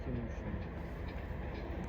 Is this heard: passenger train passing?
yes